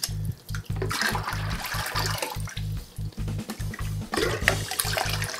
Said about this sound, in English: So the pump's gonna have to pump water back into the main display.